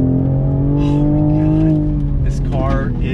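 A 2020 Toyota Supra's engine drones loudly at steady revs, then eases off as the car brakes and blips through quick downshifts near the end, with a voice talking over it.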